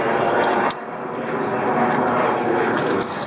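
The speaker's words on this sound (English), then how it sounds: "Airplane." A fixed-wing airplane passes overhead as a steady, broad engine roar, fairly loud and continuous, heard outdoors near a dumpster at a recycling run, with a brief dip early on.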